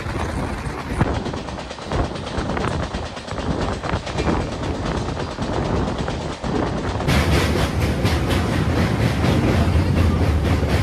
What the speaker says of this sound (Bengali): এই দীঘা থেকে এখন যাচ্ছি পুরীতে এই সমুদ্রকন্যা এক্সপ্রেসে